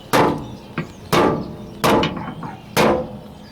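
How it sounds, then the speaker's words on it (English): Four sharp metallic hammer blows from a light hammer land on a 1968 AMX fender being shrunk, at an uneven pace, close and loud, with lighter taps in between. "I'm going to use a light hammer and shrink it"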